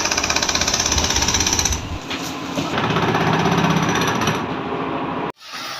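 A jackhammer pounds rapidly and loudly up close during demolition of illegal buildings, first as a steady rattling burst, then a rougher grinding stretch that cuts off abruptly near the end.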